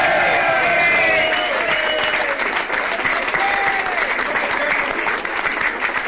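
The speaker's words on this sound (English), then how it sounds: "The last time I heard applause like that was in this bar, and Cad was on the booze" Loud, dense applause from a bar audience welcoming a guest speaker, a steady wash of clapping with some cheering that holds for several seconds before tapering slightly.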